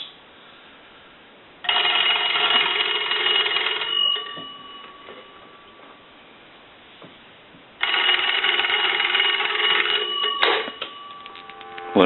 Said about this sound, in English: I'm going to go ahead and ring the telephone with the analyzer